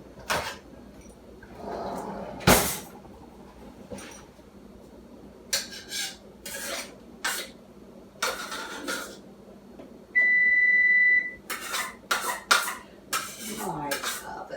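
A kitchen oven gives a single sustained electronic beep to signal it is preheated, clear and steady amid scattered clatter of dishes, pans and cutlery and the thud of cabinet doors.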